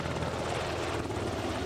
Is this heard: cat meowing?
no